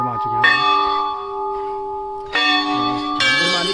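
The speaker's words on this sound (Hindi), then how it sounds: "घंटियाँ घंटियाँ घंटियाँ" Metal temple bells ring at a Mahadev temple, several loud clanging strikes with long ringing tones that overlap and swell as new bells are struck, close by.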